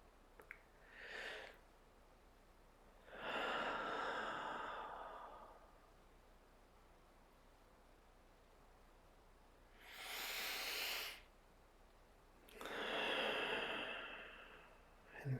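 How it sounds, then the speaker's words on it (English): Slow deep breaths during a guided relaxation, four long airy inhales and exhales of one to two seconds each with long quiet gaps between, soft and near. "take a couple of deep breaths"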